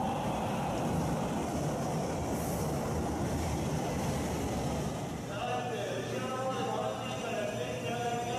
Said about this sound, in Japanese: あの電車が来る直前でああいう風に散水を始めます。